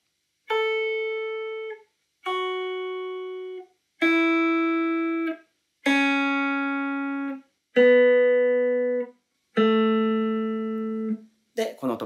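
A clean guitar plays a major pentatonic scale descending, six separate ringing notes picked slowly and evenly, each sustaining about a second and a half before a short gap, close and clear.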